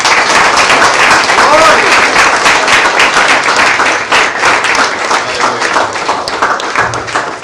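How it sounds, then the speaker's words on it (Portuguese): Church congregation applauding in praise, a dense, steady wash of clapping that stays loud throughout and eases slightly toward the end. "Uma salva de palmas para o Senhor."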